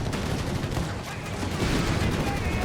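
Sustained machine gun fire in Company of Heroes 3 during a Wehrmacht and Afrika Korps versus US and British forces battle, steady rattling bursts and distant explosions layered under a commentator's continuous talk.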